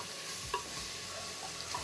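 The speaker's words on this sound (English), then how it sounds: "I want the garlic first to get nicely fried and cooked. So I'm just sauteing it" Garlic sauteing in oil with browned onions for a vegetable dum biryani, a soft continuous sizzle with a light stir scrape, close but fairly quiet, with no talk.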